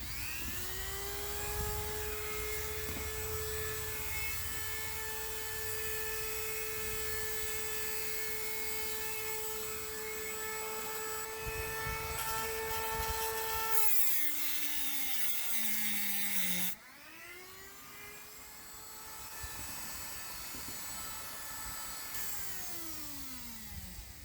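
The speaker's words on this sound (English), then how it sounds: "this is just a flex shaft, and it's just a rotary tool, Dremel." A Dremel rotary tool on a flex shaft cuts a slot in the trim of a 1992 Born Free RV. It gives a steady, loud, close whine that sags in pitch under load midway, then recovers. No talking.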